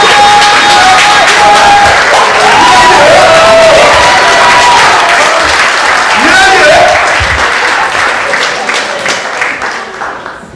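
Wedding guests clap loudly and enthusiastically for the newly married couple, a dense roar of applause mixed with cheers and whoops and some talking, fading toward the end.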